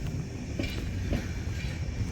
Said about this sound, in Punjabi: ਟ੍ਰੇਨਾਂ ਚੱਲ ਪਈਆਂ ਨੇ ਟ੍ਰੇਨ ਆਵਾਜਾਈ ਚੱਲ ਪਈ ਹੈ